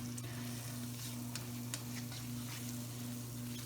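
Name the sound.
onions sizzling in butter in a pan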